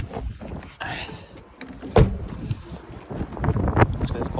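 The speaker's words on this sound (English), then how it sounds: "So it's quite windy out today." Gusty wind blowing outdoors beside a Benimar Aereo motorhome with its bonnet open, buffeting the microphone in uneven rushes, with a voice speaking over it in places.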